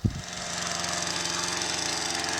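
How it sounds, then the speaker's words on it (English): A gasoline-powered auger digs holes for planting trees in hard end-of-summer ground, its small engine thumping after a brief start and then running in a steady, rapid pulsing rhythm. "we need this gasoline-powered auger to make holes for the trees"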